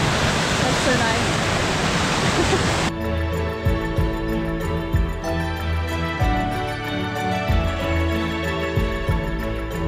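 A waterfall on a hiking trail near Juayua, El Salvador, roars as a steady broadband rush that fills the clip, with a change after about three seconds when more rumbling low tones and splashing detail come through.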